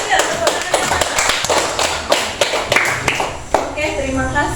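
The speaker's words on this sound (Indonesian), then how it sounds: "tepuk tangan ya, tepuk tangan" Hands clapping in an elementary school classroom, a sixth-grade class: a dense run of sharp claps with irregular louder slaps, mixed with children's voices throughout.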